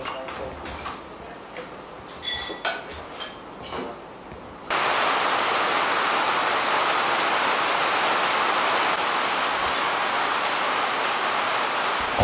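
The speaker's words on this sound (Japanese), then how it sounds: "2日目の朝はあいにくの雨でございますが" Morning rain on Simeulue island, a faint patter with scattered ticks at first, then a sudden loud, steady, close downpour hissing without pause to the end.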